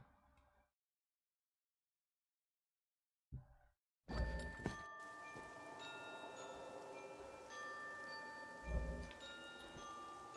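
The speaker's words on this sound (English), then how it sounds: "And we got this cinematic in rain." Rain falls steadily in a cinematic from the video game Dynasthir, a continuous patter that starts abruptly after near silence, with faint tinkling chimes and a couple of louder low thumps over it.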